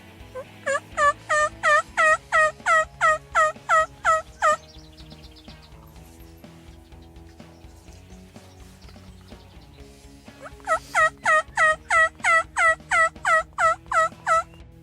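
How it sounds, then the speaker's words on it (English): Two series of sharp, rhythmic turkey yelps, each a fast run of about a dozen loud, close calls, separated by a quiet gap during a turkey hunt. "So I threw out a series of yelps"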